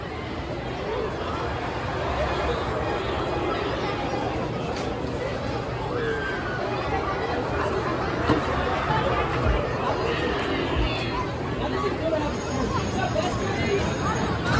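Dense crowd chatter and footsteps of visitors walking around Waldameer amusement park, a steady babble of many overlapping voices at moderate loudness throughout, with no clear single speaker.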